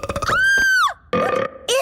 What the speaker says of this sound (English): It seems to be a box of burps